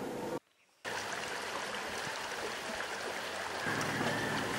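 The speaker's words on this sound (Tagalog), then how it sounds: "maririnig mo na ang tila umaawit na tunog ng agos ng tubig" Water of the Simona river flows steadily in a close, continuous rushing stream, broken by a brief dropout near the start, with no talk.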